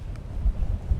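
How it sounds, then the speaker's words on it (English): Strong cold Arctic wind in Senja, Norway buffets the microphone in low, gusty thumps for a brief moment, loud and close, with no one speaking. "Oh my god, it's windy."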